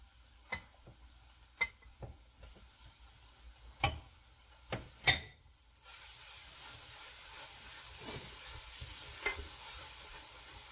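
Grated coconut stirred into a melted mixture in a pot on a stove: sharp scattered spoon knocks and scrapes against the pot, then a steady soft hiss of cooking, faint and close.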